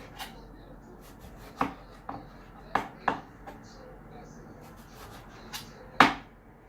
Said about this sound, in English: So let's get those slices cut up